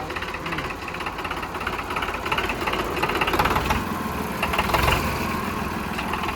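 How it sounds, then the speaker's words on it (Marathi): A Kirloskar diesel engine idles nearby with a steady knocking chug, continuous and fairly loud throughout, with faint voices in the background. "एक्स किर्लोस्कर इंजिन आहे किर्लोस्कर"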